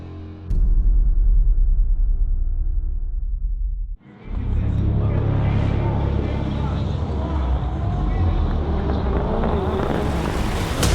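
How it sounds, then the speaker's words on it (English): Sverre Isachsen's blue and gray Subaru rallycross car launches from the start line of a final race. A loud, roaring engine starts abruptly, dips briefly, then surges back and holds steady. A commentator's voice may sit under the noise. "the blue and gray Subaru of Sverre Isachsen has launched into the lead"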